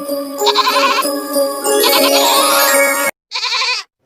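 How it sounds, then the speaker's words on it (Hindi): A hungry goat bleats loudly and insistently up close, one long wavering cry followed after a brief gap by a shorter second bleat. "यह तो बकरी के चिल्लाने की आवाज है"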